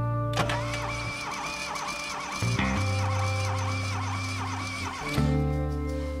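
An old Fiat 127 engine cranks with a steady whirring starter, groaning and shifting pitch as it tries to catch, stopping and starting again.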